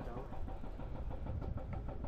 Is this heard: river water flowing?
no